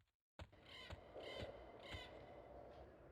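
Three harsh crow caws from a bird in EverQuest, evenly spaced about half a second apart over a steady ambient game background, fairly close and clear with no talk.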